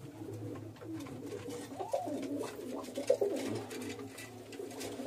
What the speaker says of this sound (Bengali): এখানেও সব নর পায়রা রয়েছে।